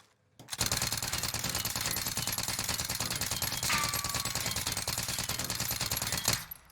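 An AR Milano rifle fires one long, sustained full-auto burst in the Warzone video game, loud and close with a rapid, even rhythm of shots lasting about six seconds before cutting off.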